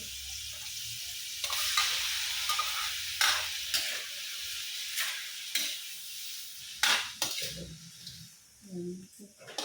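Shrimp go into a hot pan with aromatics for Filipino ginisang gulay and are stirred and sautéed, giving a steady sizzle with scraping stirs and clinks, while a voice talks over it.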